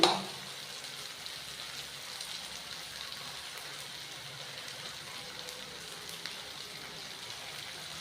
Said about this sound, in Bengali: আদাটা ভালো করে ভেজে নিলাম